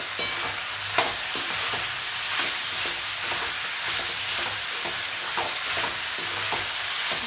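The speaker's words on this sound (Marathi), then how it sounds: "त्याला व्यवस्थित फ्राय करून घ्यायचं" Salted vegetables frying in a pan for veg pulao: a steady, fairly loud sizzle runs throughout, broken by faint occasional stirring clicks, with no talking.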